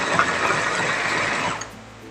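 Spice paste ingredients being ground in a motorized grinder, a steady loud whirring buzz that runs for about a second and a half, then cuts off into a quieter hum.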